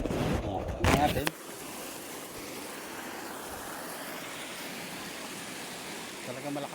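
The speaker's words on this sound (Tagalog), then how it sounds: "talaga malakas yung pagbaha ngayon. Ito kitang-kita nyo naman ang laki ng tubig" Floodwater rushing high and fast down a swollen river, a broad steady roar that fills the scene after a brief burst of voices at the start.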